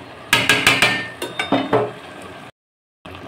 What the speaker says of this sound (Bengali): এই পোলাওটা দেখো একটুখানি নেড়ে দিচ্ছি আমি, একটু নেড়ে আবার চাপা দিয়ে দেবো।